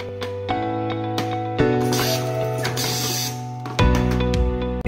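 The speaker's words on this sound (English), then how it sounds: "semi-automatic tape around machine to seal small jars with duct tape." A semi-automatic tape-around machine sealing small jars with duct tape runs with a steady mechanical drone and tonal hum, loud and close, broken by a few clunks and a louder hissing stretch of tape winding; no talk.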